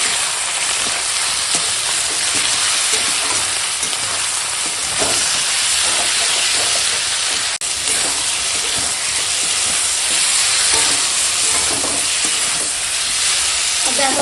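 Fish sautéing in a pan with chili powder, turmeric and salt, a steady close sizzle and hiss with occasional stirring scrapes, continuous throughout without talk.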